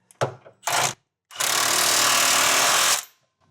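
A power tool runs in short bursts, two quick pulls followed by a long steady whir, tightening frame bolts on a B&W Companion 5th wheel trailer hitch underbed kit on a 2017 Ford truck, loud and close with no talking.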